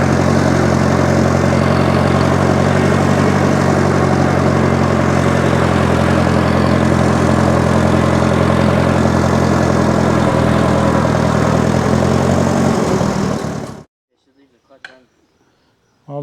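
A freshly rebuilt Farmall Super M tractor engine runs loud and steady, a heavy low-pitched idle that throbs for about fourteen seconds and then cuts off abruptly, leaving near silence with a few faint knocks.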